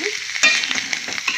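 Bitter gourd pieces fry in a pan, a close, steady sizzle broken by quick scraping stirs of a spatula, loud and continuous with no voices.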